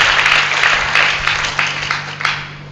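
Applause from a church congregation during a sermon, a dense steady crackle of many hands clapping at once, loud and close, with a low steady hum beneath it.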